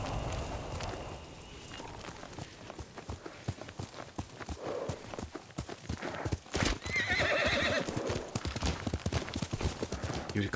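Horse hooves clip-clop rapidly on hard ground in Ghost of Tsushima, then a loud neigh rings out near the end, all close and clear.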